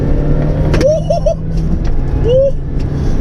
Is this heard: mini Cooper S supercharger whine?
yes